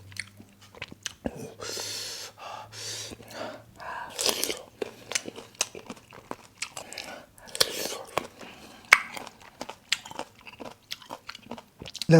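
Someone eating a giant apple mango, with moist biting and chewing sounds close up, interrupted by short pauses and a few quiet spoken remarks.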